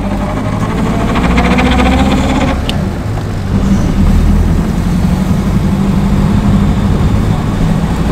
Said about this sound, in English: You're shifting so fast it sounds like a sequential gearbox.